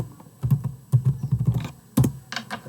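Quick bursts of keystrokes on a computer keyboard, close and clear, in short irregular clusters with brief pauses between them, with no talk.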